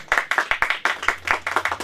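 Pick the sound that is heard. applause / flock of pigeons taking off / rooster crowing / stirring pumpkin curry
applause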